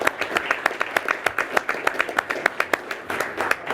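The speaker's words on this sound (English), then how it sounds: "I appreciate the applause" Applause at a city council meeting, a small group of hands clapping in sharp, fairly sparse individual claps with a loose, uneven rhythm, close and clear.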